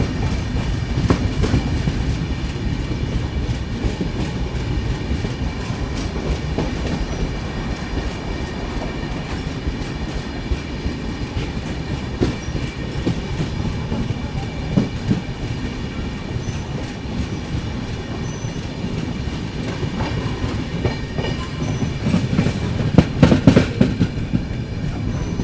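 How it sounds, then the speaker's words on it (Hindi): A Konkan Railway freight train carrying loaded trucks rolls past nearby, making a steady loud rumble with rhythmic wheel clatter over the rails and a brief metallic squeal near the end. "ट्रक से लदी हुई ट्रेनें।"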